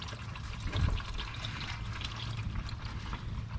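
Motor oil drains from a 2012 Nissan Rogue 2.5S into a pan, a steady close trickle and pour of liquid running throughout with no talk.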